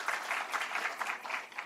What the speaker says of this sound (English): Can we give her a round of applause for that in advance?